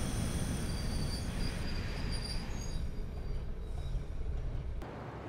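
A Class 101 diesel multiple unit brakes to a stop in a train simulator game, with a steady rumble and high wheel squeal that fades as the train slows, ending in a brief clunk.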